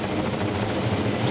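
A helicopter flies over the summit of Mudeungsan National Park with bundles of waste slung beneath it. It makes a loud, steady, close rotor roar with a rhythmic thumping pulse and no other sounds.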